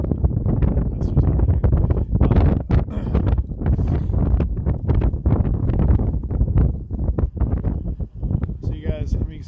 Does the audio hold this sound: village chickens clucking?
no